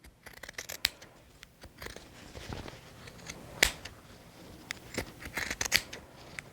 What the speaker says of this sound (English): Just trying to trim out some of that bulk